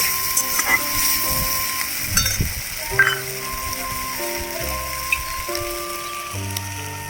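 Spice masala frying with onion and tomato in a village kitchen pan gives a steady low sizzle with occasional stirring knocks, under a faint background of music-like tones.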